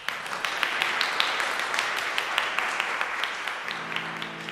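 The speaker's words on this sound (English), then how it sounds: "The applause at the end of the track was provided by ERH, a user at freesound.org" A crowd applauds in a steady wash of many hands clapping, with a few sharper claps standing out before it thins and fades near the end.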